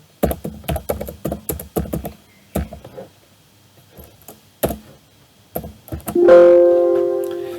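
Typing on a computer keyboard while entering data into a database form, with quick bursts of key clicks and pauses, close, followed by a loud sustained error tone at the end.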